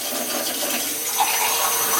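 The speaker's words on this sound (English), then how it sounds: "I'm getting ready to add about 4 cups of water" About four cups of water pour into a soup pot for a squash, lentil and chickpea soup, a steady splashing rush that runs unbroken, close and fairly loud, with no talk over it.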